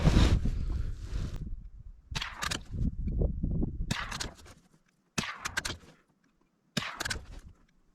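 Several .22 LR rifle shots from a Ruger bolt-action rifle, each a sharp crack with a short echo tail, spaced a second or more apart outdoors, with wind noise and handling sounds between them.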